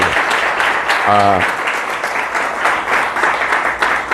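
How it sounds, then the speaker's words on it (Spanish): A church congregation in Buenos Aires breaks into sustained applause, a thick wall of clapping throughout, while a voice briefly speaks over it near the start. "Denle un aplauso al Rey bendito."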